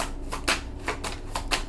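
Tarot cards riffled and shuffled while one card is pulled from the deck, a run of about five crisp papery bursts in quick, uneven succession, close and fairly loud, with no one talking.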